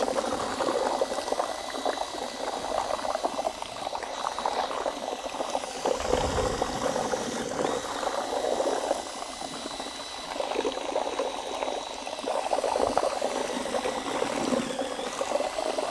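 ARDEX floor leveling compound churned in a tall, narrow bucket by a drill mixer, a continuous sloshing, gurgling whir with rhythmic ratcheting texture, steady and close for the whole stretch, no talking.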